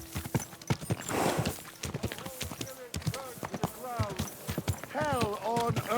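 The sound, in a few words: horse hooves in video game Kingdom Come: Deliverance II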